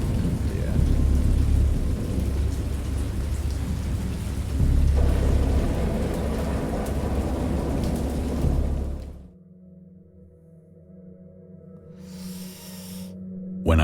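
Heavy thunderstorm with dense, roaring rain and deep rumbling thunder, loud and continuous for about nine seconds before cutting to a quiet, eerie drone with a brief hiss near the end.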